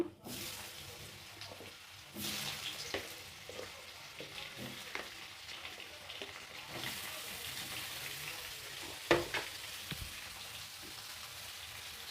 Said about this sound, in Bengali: আলু ভাজার তেলেই আমি এচড়ো ভেজে নেব